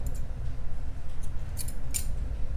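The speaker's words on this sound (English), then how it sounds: "after that you're going to chain one and cut your yarn" Scissors cutting yarn after a crocheted row on a daisy flower top, a few quick faint snips standing out over a steady low room rumble.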